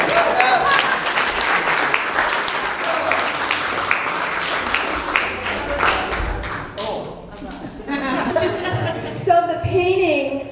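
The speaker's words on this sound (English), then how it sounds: "I just like to put applause." Applause at an art awards ceremony for a painting winner, dense clapping that fades after several seconds as a voice starts talking over the thinning hands.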